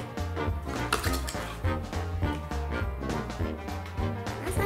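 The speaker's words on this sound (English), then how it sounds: "mix all together with a fork or spoon" Clinking of a fork or spoon against a dish while slime mixture is stirred, with rapid repeated taps and scrapes over steady background music, close and moderately loud.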